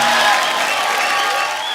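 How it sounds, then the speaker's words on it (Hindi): Dense studio audience applause at a comedy talk show, a loud, steady wash of clapping that fills the short clip and fades slightly toward the end. "एक बार जोरदार तालियां गुरु रंधावा के लिए।"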